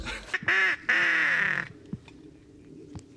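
Loud, close duck quacks ring out in a few drawn-out nasal calls, then fade to faint background noise and scattered thumps, during a duck hunt on the Potholes with mixed local birds.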